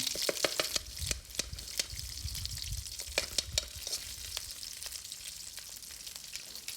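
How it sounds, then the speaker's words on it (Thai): Southern Thai curry paste stir-fried with shrimp paste in oil, sizzling close by as a spatula clacks and scrapes against the pan in quick irregular strikes. "ก็ผัดกะปิ กับพริกแกงให้หอมครับนะ"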